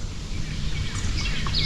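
Wild birds call at Elwood Reservoir in Nebraska, a few faint, distant chirps over a steady outdoor background hiss.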